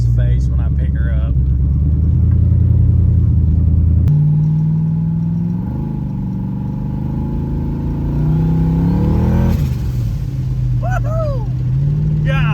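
Ford Fairmont engine rumbling and revving while driving, a loud steady low drone that shifts pitch as it accelerates, with someone talking over it throughout.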